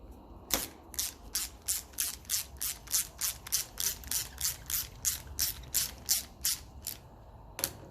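A socket wrench ratchets rapidly on the fuel tap of a 1954 Ferguson 20 TEF diesel tractor, producing a close, steady run of about twenty crisp clicks with no speech.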